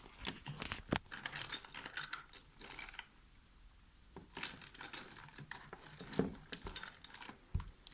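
Rummaging through a paint bag for an eraser: small objects clatter and rattle in busy bursts with a quieter pause midway, close and moderately soft.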